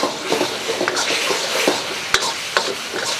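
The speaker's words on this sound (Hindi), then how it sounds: "और इसको अच्छे तरीके से घुमाएंगे" Capsicum pieces are stirred in a hot pan over a high flame for restaurant-style dry chilli chicken. A close, continuous sizzle runs throughout, broken by scraping strokes and a couple of sharp clacks of the spoon against the pan.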